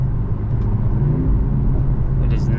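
A 2025 Mercedes-AMG C63 S accelerating, heard from inside the cabin as a deep steady engine rumble and low drone that holds evenly throughout, fairly loud, with no voices.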